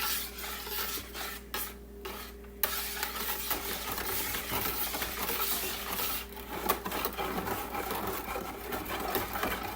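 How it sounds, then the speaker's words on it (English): Homemade laundry soap powders are stirred into liquid in a pot, giving a steady scraping, swishing stir that runs continuously and fairly close, with no voices. "You just keep stirring."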